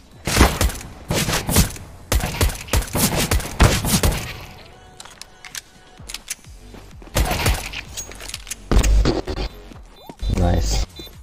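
Video game gunfire from a USP pistol comes in sharp bursts of several rapid shots, loud and close. Someone talks over and between the volleys.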